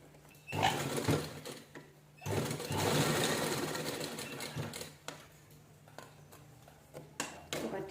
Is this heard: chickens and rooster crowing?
no